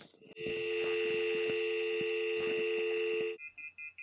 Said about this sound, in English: So it's generating a dial tone.